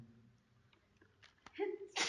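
One sharp sneeze bursts out near the end, preceded by a sharp inhale and faint vocal sounds and room noise, loud and close.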